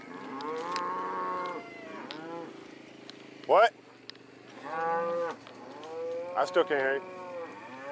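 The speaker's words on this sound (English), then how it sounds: "Yeah, those are cows." Real cattle lowing several times, long drawn-out moos at moderate distance, with people talking between and over the calls outdoors.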